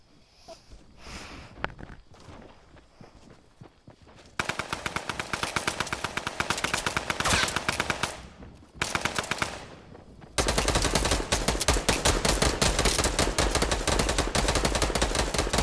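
Rapid automatic gunfire in Fortnite, long sustained bursts of dense shots close and loud, broken by short pauses, with quieter scattered shots in the opening seconds.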